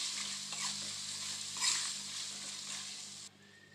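Mango rice mixture is stirred in a pan just off the stove, a soft continuous scraping and faint sizzle up close that drops away near the end.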